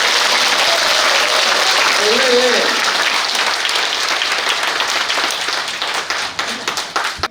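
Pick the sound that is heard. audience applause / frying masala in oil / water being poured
audience applause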